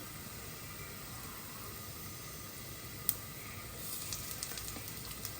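Asafoetida powder dropped into a sizzling pan on the stove: a steady, faint frying hiss that swells slightly near the end with a few small crackles and one brief tap, with no voices.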